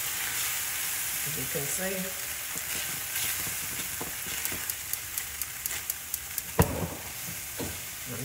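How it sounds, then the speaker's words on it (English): Hot honey skillet corn thickening in a pan, a steady close sizzle under a spoken voice, with a run of sharp taps and scrapes from the stirring spoon against the skillet toward the end. "I'm supposed to stir this until it's all nice and thick"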